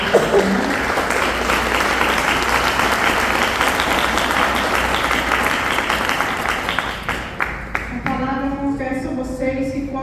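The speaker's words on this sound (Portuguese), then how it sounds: "Você possa dar uma salva de palmas para essa palavra" A church congregation breaks into sustained, dense applause that fills the room, then tapers off near the end as a voice begins to speak over it.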